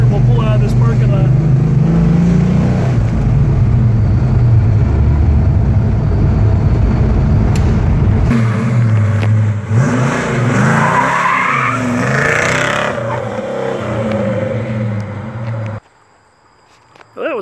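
A 1969 Dodge Coronet Super Bee with four-speed manual revs hard and pulls out of a parking lot, a loud close engine roar with tire squeal that shifts mid-run, then cuts to near silence at the end.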